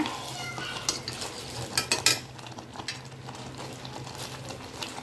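Jaggery being mixed into mango pachadi in a pan, giving soft scraping and stirring clatter with a few brighter spoon knocks against the pan over a low steady background.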